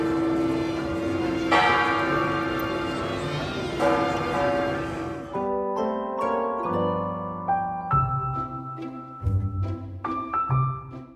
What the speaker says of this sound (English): The bell tower is right in front of us.